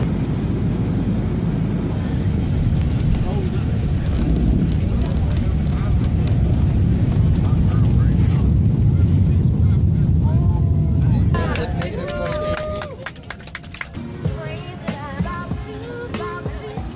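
Steady low roar of an airliner cabin partway through a 15-hour long-haul flight, loud and continuous for about eleven seconds before dropping to a quieter hum with scattered clinks and faint, brief rustling near the end.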